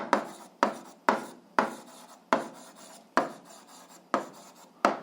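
A pen writing on paper during algebra working, a series of short scratchy strokes, each starting sharply and trailing off, repeating in an uneven rhythm, close and clear with no talking.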